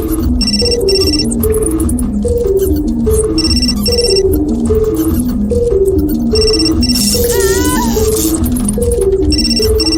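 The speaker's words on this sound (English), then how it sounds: "My phone. Must be McPherson." A phone rings in the 2009 video game Still Life 2, loud and close, its electronic trilling tone cycling in a steady repeating pattern across the whole stretch with no pauses.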